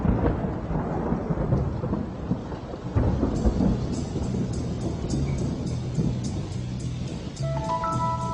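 Heavy rain pours steadily while deep thunder rumbles and rolls close by, loud and continuous throughout, with no voices.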